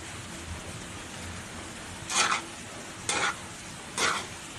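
Biko rice cake being stirred in a pan, a low steady background sizzle broken by three distinct scraping strokes of a spoon across the pan, close up.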